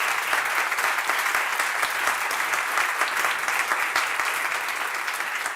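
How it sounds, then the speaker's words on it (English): Sustained applause from a conference audience at a behavioral science summit in Madrid, a dense, even wash of clapping that holds steady throughout with no voices on top. "So please let's have a big round of applause for Cass Sunstein."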